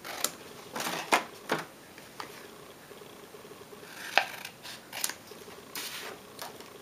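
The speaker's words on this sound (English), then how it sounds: "I'm just going to do it really quickly with these scissors" Several quick, crisp snips of scissors cutting through origami paper, close by, in short irregular bursts with quiet pauses between.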